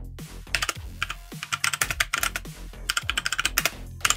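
Fingers type text on a computer keyboard in quick, uneven bursts of sharp key clicks, close and clear, with short pauses between runs.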